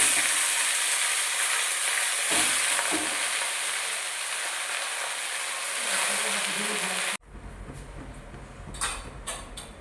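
Red amaranth greens sizzle loudly in hot oil in a wok while being stirred, a dense steady hiss that abruptly drops to quieter frying with occasional clatter of the utensil against the pan.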